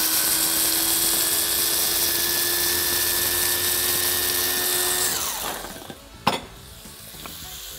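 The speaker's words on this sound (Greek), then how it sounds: "Ρίχνω το πιπέρι μου, αφού πρώτα το σπάσω πολύ καλά σε ένα μιξεράκι ή ένα γουδί." A small electric mixer grinds black pepper with a steady high motor whine, then spins down and stops, followed by a brief clack and quiet rattling.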